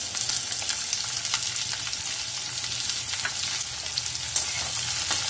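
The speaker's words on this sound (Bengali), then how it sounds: "এবার আমি স্লাইস করে কাটা একটা বড় সাইজের পেঁয়াজ এর মধ্যে দিয়ে দেব" A large sliced onion goes into hot oil with whole cumin seeds and fries with a constant, close hiss and crackle. A small pop comes near the end, and no one speaks.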